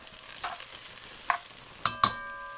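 Onions sautéing in a pot for chili, with a soft steady sizzle and a few sharp clinks of a utensil stirring against the pot near the end.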